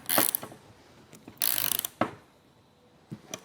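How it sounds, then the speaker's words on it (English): A 14mm wrench tightens the housing of a PF22.2 foam cannon, giving a few short metallic ratcheting clicks and scraping bursts with quiet gaps between them, close and fairly faint. "then I'll take my 14mm wrench and tighten it the rest of the way down"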